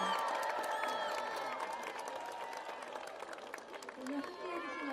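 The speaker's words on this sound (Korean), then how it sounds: "박수와 환호만을 보내주신 여러분들께 다시 한번 감사 말씀을 드리겠습니다" Supporters applaud and cheer at a South Korean presidential campaign launch event, a dense, steady wash of clapping and shouting that fills the whole stretch, with crowd voices mixed in.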